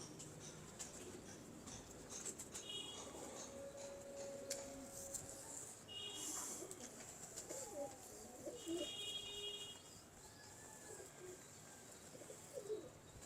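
A soft-feathered, older pigeon held in the hand gives low, faint coos in a few short bursts against a quiet background.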